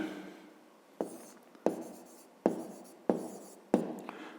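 A pen scratches on paper in five distinct, evenly spaced strokes, each a sharp onset that fades, while numbers are written down for a fifth-grade math exercise; close and quiet, with no talking.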